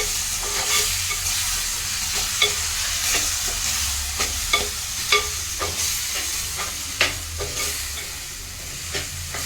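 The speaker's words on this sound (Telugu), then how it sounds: "టమాటా వేసుకొని మంచిగా ఫ్రై చేయాలి" Tomatoes frying in a pan for a mushroom curry, a loud continuous sizzle broken by regular spatula scrapes and clinks, close and unaccompanied by speech.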